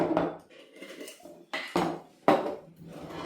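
Metal spoons knocking against glass dishes, three or four sharp clinks and clatters close by, with softer rattling between them and no talk.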